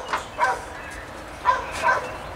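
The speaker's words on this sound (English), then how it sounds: "that dog is barking at something, always when I'm trying to film" A dog barks outdoors near a rotisserie smoker, a few separate muffled barks in two loose pairs, somewhat distant against steady background noise with no talking.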